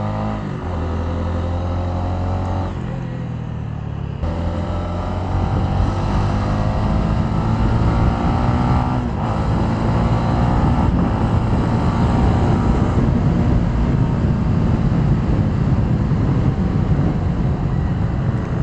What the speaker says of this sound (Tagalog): Yung hiyaw ng makina niya, CBR na CBR yung hiyaw eh.